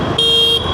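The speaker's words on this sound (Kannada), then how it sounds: "ಯಾವುದಿದು ಹಾರ್ನು? ಛೀ, ಚೆನ್ನಾಗಿಲ್ಲ" A short, loud single honk from an adventure motorcycle's horn, a bright steady tone lasting about half a second, heard up close.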